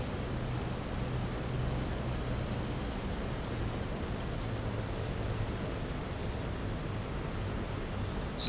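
A Bf-109 propeller engine in the DCS flight simulator drones steadily and loudly for the whole stretch, a dense unbroken broadband roar with a faint low hum beneath.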